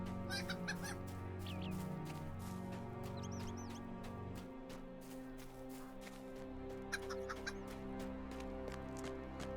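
Chickens in the online game Lord of the Rings Online cluck in soft, scattered bursts over a steady, faint background hum, heard without talk.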